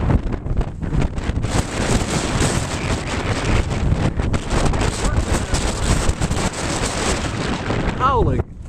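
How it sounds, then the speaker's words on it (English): Strong gusting wind howls across a mountaintop deck, roaring continuously and buffeting the microphone with loud, rushing bursts throughout. "Wind gusting up to 37 miles an hour right here on top of the mountain."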